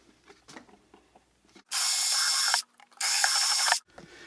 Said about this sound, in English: Now we're going to drill these out so we can fit our bolts.